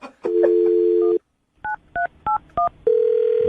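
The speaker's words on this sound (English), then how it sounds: "I'm going to dial the phone number right now, get her on the phone" Telephone keypad tones as a number is dialed, a long steady tone followed by four short evenly spaced beeps and another sustained tone, loud and close with no talking.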